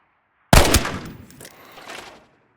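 A single loud burst of gunfire from a new gun in the shooter game Arena Breakout Infinite, sharp at onset and tailing off over about two seconds, close and clear with no talk.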